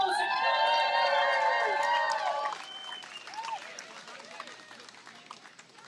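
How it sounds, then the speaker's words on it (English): A crowd at an outdoor climate justice demonstration against fossil fuels cheers and applauds. Loud shouts and whoops come first, then the clapping gradually dies away. "Give him a big round of applause."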